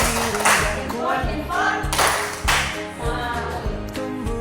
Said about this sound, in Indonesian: Kita beri aplaus. Tepuk tangan.